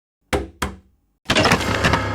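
Two sharp knocks land on a door, close and loud. After a short pause, a rapid run of heavier knocking or pounding follows.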